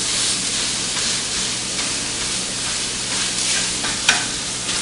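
Onions fry with browned sausage in a hot skillet, giving a loud, continuous sizzling hiss with faint stirring scrapes and one brief clink near the end.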